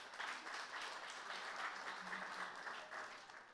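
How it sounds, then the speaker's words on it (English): Audience applause at an xTool product launch event in Europe, a dense, steady wash of many hands clapping at even volume throughout, with a faint voice underneath. "I think our engineers back to China will be very happy to hear the applause"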